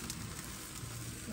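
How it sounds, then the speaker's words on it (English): Soft, steady sizzling crackles of brisket fat and water in a hot pan on an offset smoker, a faint continuous hiss with tiny pops, no voices. "all the fat and water is sizzling in that pan"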